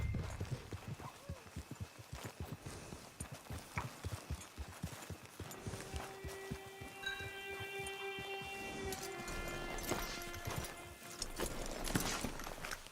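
Horse hooves clip-clop steadily in Red Dead Redemption 2, a rhythmic run of hoofbeats at moderate distance, joined midway by sustained tonal game sounds.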